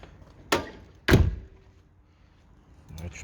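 Land Rover Discovery 2 central locking engaging with two sharp mechanical thunks about half a second apart, a faint rattle following, then a softer clunk near the end, close by with no talk.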